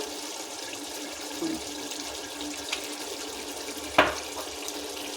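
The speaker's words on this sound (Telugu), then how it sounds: "రైస్ వాటర్ బాయిల్ అవుతుంది కదండి" Water boiling in a pot for rice for chicken dum biryani gives a steady, soft bubbling hiss, with one brief clink near the end and no talking.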